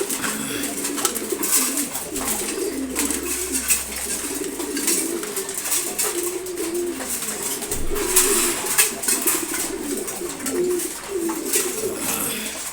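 Racing pigeons being given their morning feed, with repeated low, soft coos close by over light rustling and pecking.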